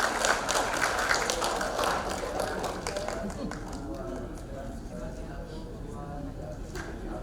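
A crowd at an Indonesian seminar on Islamic banking and hajj funds applauds, a dense patter of clapping that fades as people start talking over it.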